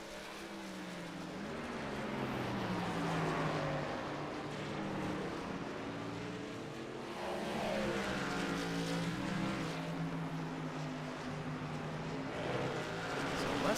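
Race trucks lap the Lime Rock track, engines droning and rising and falling in pitch as they pass at a distance, a continuous roar with faint voices underneath.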